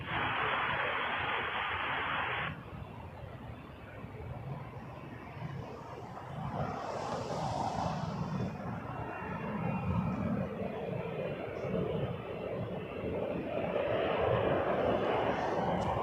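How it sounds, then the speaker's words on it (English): A Piedmont Embraer ERJ 145 LR regional jet departs from runway 06 left at Toronto Pearson, a distant engine roar swelling gradually, with radio chatter from the tower and a hiss over it near the start. "Piedmont 5887 headed to Philadelphia on an Embraer ERJ 145 LR"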